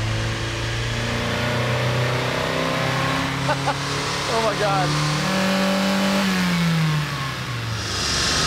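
A Mazda Miata spec class race car engine revs steadily on a dyno, a loud sustained drone rising in pitch and then dropping back, with people talking briefly over it.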